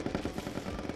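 Gunfire in the video game Pummel Party comes as a rapid, evenly spaced burst of muffled shots, dense and continuous, with no speech over it.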